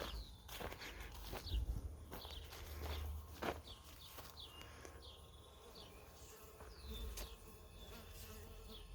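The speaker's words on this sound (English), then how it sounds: "The bees are working it." Bees buzz faintly around plants in a backyard garden, a low continuous hum with occasional closer passes, while small birds chirp lightly in the background.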